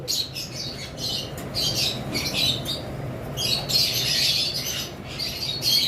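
Cockatiels and lovebirds chirp and squawk in quick, bright bursts, a busy flock calling from nearby with no voices.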